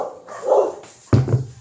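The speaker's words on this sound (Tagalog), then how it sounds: "Ingay ng aso." A dog barks outdoors near a kitchen, a soft whine followed by a single sharp, close bark.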